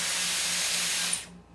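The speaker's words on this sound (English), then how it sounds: "Then I press the settings on the cold air to cool it down." Dyson Airwrap hair styler on its cold-air setting, a loud, steady breathy rush of air close by with a low hum beneath, then cutting off abruptly near the end.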